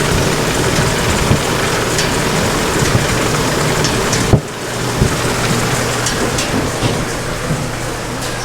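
A cucumber wash line with spinning scrub brushes and water draining away, giving a loud, dense, rain-like roar of spraying water under a low machine hum, with one brief dip midway before it carries on steadily.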